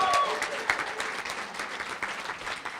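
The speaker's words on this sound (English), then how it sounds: "So give her a round of applause." Audience at a college summer bridge celebration applauds, a dense steady patter of many hands clapping at moderate volume for a few seconds, with some voices mixed in.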